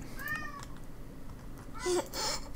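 A house cat lets out a clear meow, then a second, louder cry a moment later, both close by over faint background noise.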